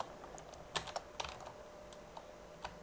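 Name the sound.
typing code on a computer keyboard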